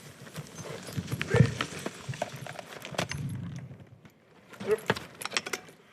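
A horse skidding logs in a forest, its hooves clip-clopping in an irregular rhythm alongside jingling harness and chains, close and moderately loud, with quiet voices in the background at times.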